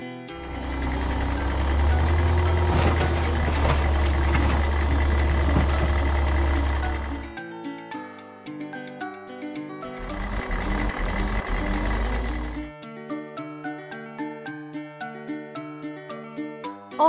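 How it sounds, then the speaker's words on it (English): An orange garbage truck's engine rumbles in two long stretches, with a steady run of reversing beeps, all set against a rhythmic musical backing. "Orange. Garbage truck."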